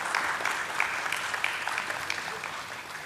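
Audience applause at a corporate listing ceremony welcoming dignitaries, a dense steady wash of many hands clapping throughout, moderately loud and even with no talk over it.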